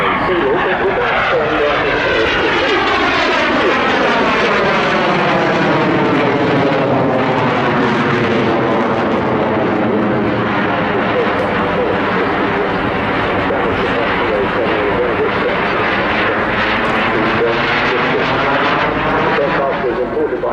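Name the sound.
BAC Strikemaster jet aircraft flying display at airshow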